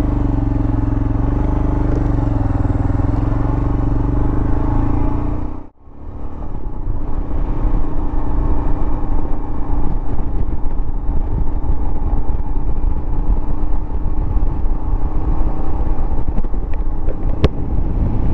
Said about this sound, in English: I actually like the sound of this motorcycle.